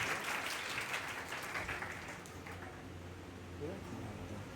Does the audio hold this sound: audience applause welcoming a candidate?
yes